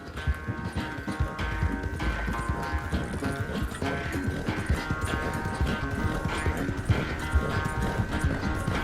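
Horse hooves clip-clop at a steady walking rhythm in Red Dead Redemption II, close and continuous beneath in-game music and ambience, with faint background voice.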